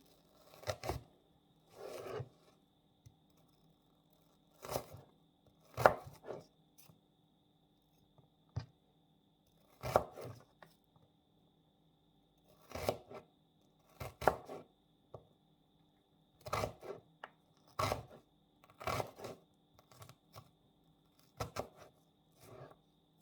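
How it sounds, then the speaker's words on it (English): An onion being chopped for a prawn curry, with short bursts of knife cuts on a board spaced by quiet pauses, close and fairly soft. "I'm going to chop the onion"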